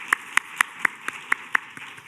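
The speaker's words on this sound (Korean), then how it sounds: "하나님께 영광의 박수 올려드리겠습니다." Eight or so sparse, evenly spaced claps from a church youth congregation, light and fairly close with quiet gaps between them.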